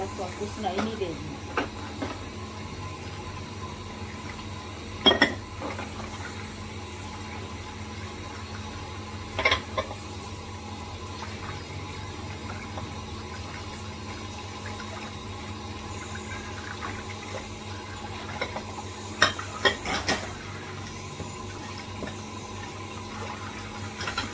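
Dishes being washed by hand under a running kitchen tap, a steady close hiss of flowing water with scattered clinks of utensils and a faint voice underneath.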